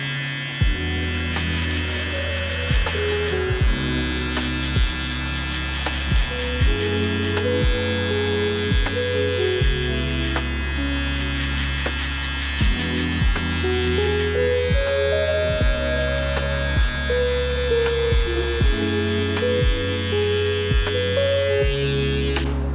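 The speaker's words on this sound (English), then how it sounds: "Now using our Gamma boosted trimmer, we're going to put in a circular zero shape around the ear." A Gamma boosted trimmer buzzes steadily and close, its hum continuous with brief rhythmic dips as it edges a circular zero-length line around the ear during a burst fade haircut; no talking.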